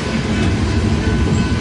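A freight train rolls steadily past at close range, its wheels giving a continuous loud rumble and clatter, with a possible foreign locomotive pushing at the rear as distributed power; no voices.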